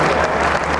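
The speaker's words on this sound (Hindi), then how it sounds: "मैंने इतनी बात के लिए ताली नहीं उठवाई" Audience applause at a Hindi poetry recital in Delhi: a dense, steady wash of many hands clapping together, close and fairly loud throughout the short moment.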